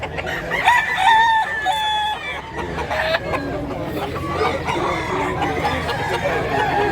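Gamefowl at a farm in Mantalungon, Barili, Cebu: roosters crowing in clear drawn-out calls near the start, with hens clucking and general poultry chatter continuing throughout, moderately close.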